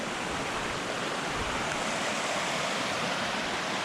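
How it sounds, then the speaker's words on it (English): A brook runs beside a mountain hiking trail, its steady broadband rush of flowing water continuous and close throughout, with no voices. "We're at a nice brook right now."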